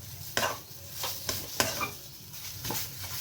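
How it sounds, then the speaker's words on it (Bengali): A dough mixture is stirred with white oil in a pan, a series of sharp spatula scrapes and taps at irregular intervals over a soft background sizzle, fairly quiet and close. "দিদি ওকে নাড়তে হবে।"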